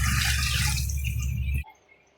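Water poured into a cooking pot for rice, a loud continuous close splashing and gushing that stops abruptly near the end, leaving near silence.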